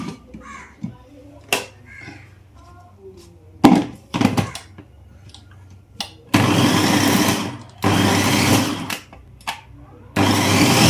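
Onions are chopped in a manual pull-cord kitchen chopper, giving several loud bursts of whirring blade noise between quiet pauses, along with a few sharp knocks as the container is handled.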